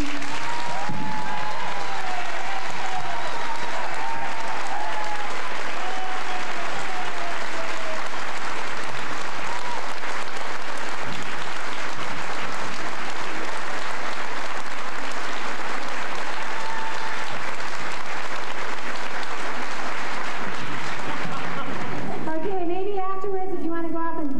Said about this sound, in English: We would like you to give a special applause to our father away from home and our true friend, Tony Fendring.